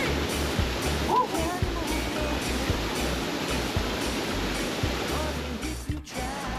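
Cold creek water rushing steadily nearby, a dense continuous roar like a small cascade, with faint voices partly mixed in under the flow.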